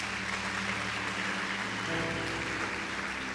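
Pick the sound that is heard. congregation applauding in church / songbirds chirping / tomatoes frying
congregation applauding in church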